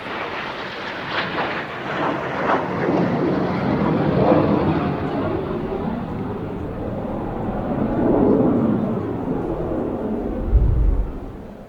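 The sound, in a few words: Strikemaster jet training aircraft flying slowly at airshow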